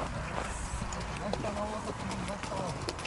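Horses at a kok-boru national team training session: a faint, quick patter of hooves on the ground, heard from a distance under close-up talking.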